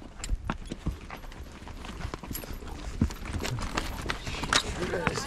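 Horse hooves clip-clopping on a ride near the Giza pyramids: a brisk, irregular series of sharp, close hoof knocks with rustling movement, under scattered talk.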